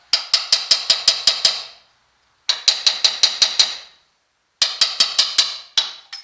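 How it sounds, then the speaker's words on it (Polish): Three separate bursts of quick, ringing hammer taps on a metal front lower control arm of an Infiniti, about seven blows each, close and crisp, with pauses between. "Delikatnie młotkiem, żeby nie uszkodzić wahacza."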